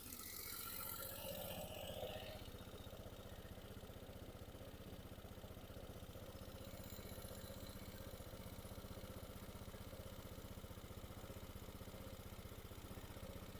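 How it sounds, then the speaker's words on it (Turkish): A Peugeot Pulsion 125 scooter engine idles with a steady, low mechanical hum, close and unbroken, with no voices. "Hemen motorun sesini de dinleteyim size."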